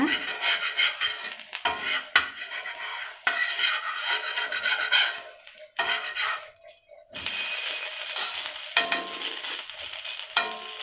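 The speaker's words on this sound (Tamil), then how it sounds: "அதுக்கப்புறம் இப்போ நம்ம திருப்பி விட்டுக்கலாம் தோசையை" Adai dosa on a hot oiled pan gets turned over with a spatula, metal scraping and clattering against the pan in several bursts over a soft sizzle, near and fairly loud, no voices.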